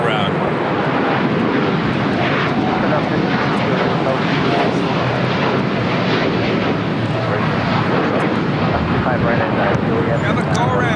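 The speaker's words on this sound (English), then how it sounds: "Cargo King 221 going around" A cargo aircraft going around at LAX roars loudly and continuously overhead, its broad engine rumble steady for the whole stretch with some wind buffeting.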